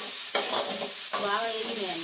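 Pachadi ingredients frying and being stirred in a hot pan, a steady close sizzle with two bursts of scraping stir strokes, no talking.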